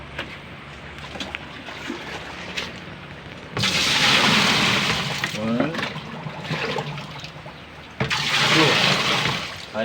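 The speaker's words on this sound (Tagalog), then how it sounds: "Okay, lalagyan uli natin ng tubig." Water gushes and splashes into a washing machine drum in two strong bursts, rushing loudly between quieter stretches, with people talking over it.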